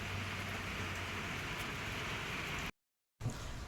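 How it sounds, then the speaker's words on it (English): Steady rain pours outside a covered porch in North Florida, a dense continuous hiss that breaks off briefly near the end before resuming. "The rain is coming down right now outside our covered porch"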